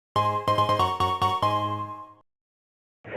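A phone's ringtone sounds as a call comes in from a car repair shop, a bright repeating electronic melody that plays loud and close for about two seconds, then stops.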